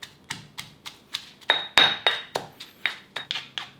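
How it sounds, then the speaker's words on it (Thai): Thai and Chinese garlic are pounded in a mortar with a steady rhythm of sharp, close knocks, about four per second and fairly loud, with one louder ringing strike partway through. "น้ำมะโขลกหรือจะใช้วิธีการปั่นก็ได้นะครับ โขลกให้ละเอียดก่อนเลย"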